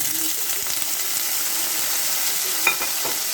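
Onions and green chillies sizzling in hot oil in a pan with mustard seeds and fennel, a steady close hiss with a few sharp pops and faint stirring.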